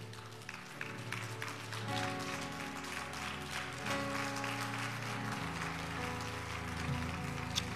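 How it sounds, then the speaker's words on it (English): A church congregation claps in praise during a morning service, with rhythmic hand claps over sustained organ or music chords that continue underneath throughout. "Would you give God a hand clap of praise today?"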